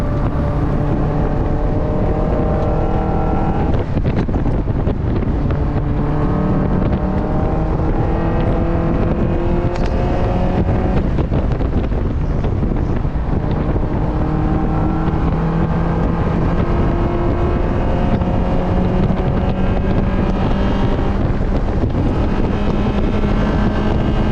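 Race car lapping the Waterford Hills circuit during a bracket race, heard from on board: a loud, continuous engine drone whose pitch climbs and falls through gear changes, with steady wind buffeting and no talking.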